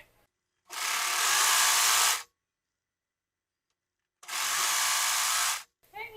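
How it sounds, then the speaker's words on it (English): Two bursts of a sewing machine running a 1/2 inch seam along the short sides of an oversized sweater, each a steady whirring drone about a second and a half long, separated by silence. "we're going to sew up these short sides with a 1/2 inch seam allowance"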